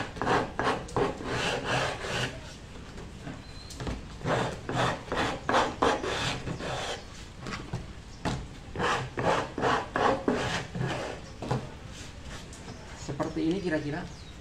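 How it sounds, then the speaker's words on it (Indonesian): Sandpaper rubs back and forth along the edge of a PVC-covered wooden board in quick rasping strokes, pausing now and then, with a voice speaking faintly at times. "Si amplas sisinya supaya rapi."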